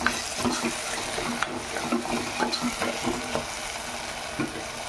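Food frying in a pan with turmeric for a country chicken curry, a steady soft sizzle with repeated scraping and clinking strokes of a spoon stirring through it.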